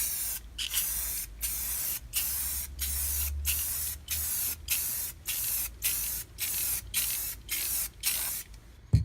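Spray gun laying clear coat on a Polaris XCR 440 sled: repeated loud hissing bursts, roughly a dozen evenly paced passes with brief gaps, close to the listener.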